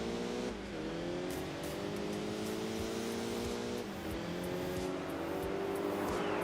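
Upgraded car engine in the Enthusia Professional Racing game, revving steadily and loudly with rising pitch, then dipping at two gear shifts before climbing again, with no talk.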